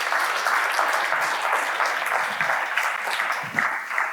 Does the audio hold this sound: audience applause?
yes